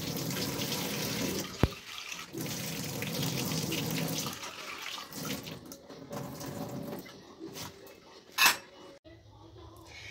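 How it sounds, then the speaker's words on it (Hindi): Mustard seeds rinsed in a sieve beneath a running tap at a kitchen sink: steady splashing water with clinks of a metal strainer, a sharp knock near the start and a brief louder clatter toward the end. "अब हम सरसों को वॉश कर लेते हैं। इसे छन्नी में डाल के करेंगे।"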